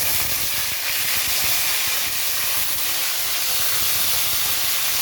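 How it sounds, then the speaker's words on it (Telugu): Brinjals frying in oil after mustard seeds and curry leaves, giving a loud, unbroken hiss of sizzling close by, steady with no talk. "వంకాయలు అయితే చక్కగా ఆయిల్లో మగ్గుతాయి"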